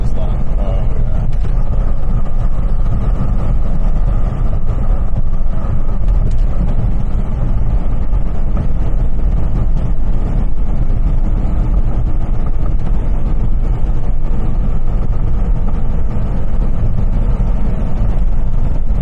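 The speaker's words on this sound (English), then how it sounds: "These trains make a lot of noise as they" Trains rolling through a wide train yard set in flat ground between ridges, between Marysville and West Fairview in November, give a loud, steady low rumble and roar that carries on without a break for the whole stretch.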